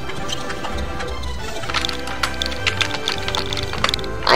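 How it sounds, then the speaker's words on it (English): Keys clatter on a computer keyboard in quick, uneven clicks, fairly close and steady over a low background hum, with no one talking. "I'm typing using the keyboard."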